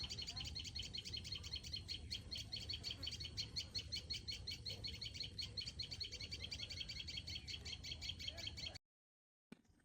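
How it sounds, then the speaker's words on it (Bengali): A dense chorus of small birds chirps and twitters continuously at close range, with rapid repeated calls layered over faint background noise before cutting out abruptly. "পাখিগুলোর কিচিরমিচির শুনতে যে কি ভাল লাগতেছিল"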